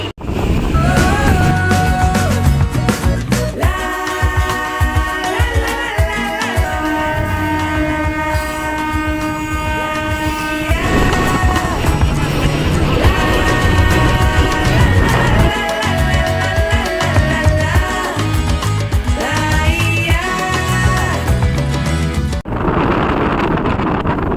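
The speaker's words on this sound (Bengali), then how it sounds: "ট্রেন এখন এসে পৌঁছেছে তমুক স্টেশনে" A local train on the Jhargram to Digha line rolls into a station with continuous rumbling and clattering wheels. Sustained horn tones sound over it, loud and close throughout.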